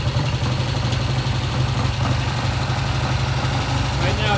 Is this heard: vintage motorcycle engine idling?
yes